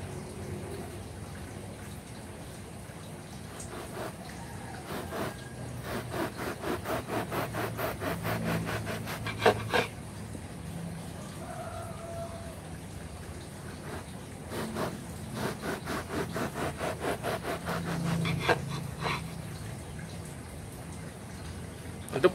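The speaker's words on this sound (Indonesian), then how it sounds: "Jadi kita tinggal gergaji sesuai ukuran ini saja." Two bouts of quick, rhythmic back-and-forth hand-sawing strokes through rock wool, fairly soft, separated by a quieter pause.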